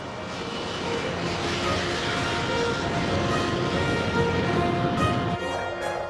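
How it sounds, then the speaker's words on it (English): An A-10 Warthog ground attack aircraft from the Gulf War era gives a loud, steady engine roar and whine that stays constant throughout, with no talking. "it was now that the A-10 Warthog ground attack aircraft came into its own"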